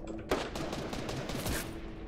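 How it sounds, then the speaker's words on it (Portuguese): Gunfire in Fortnite: a sharp close shot, then a continuous rattle of rapid distant shots through the rest of the clip, with no talk. "Eu tô tomando tiro das costas"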